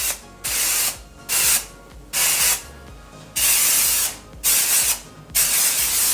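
Living Proof Full Dry Volume Blast hair spray blasting from an aerosol can in six loud, close hissing bursts of roughly half a second each, separated by brief pauses.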